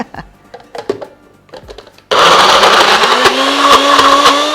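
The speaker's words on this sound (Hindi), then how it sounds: "इसे एक मिक्सर ग्राइंडर जार में डाल देंगे and then we are going to grind" A few clinks and taps, then a mixer grinder abruptly starts grinding spices with a loud, steady whirring roar that continues to the end.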